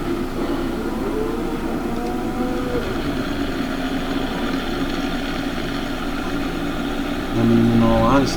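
A tractor engine idles steadily at close range, a continuous low rumble with a slight rise in loudness near the end, while a person talks over it.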